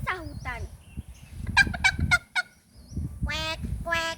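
Ducks in a village quacking in a burst of repeated nasal honking calls, several birds answering one another nearby, with short gaps between the call groups.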